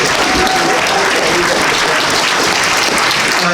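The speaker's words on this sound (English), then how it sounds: "Round of applause." A crowd at a Texas GOP primary candidate forum in Bastrop County claps loudly, producing dense, steady applause throughout.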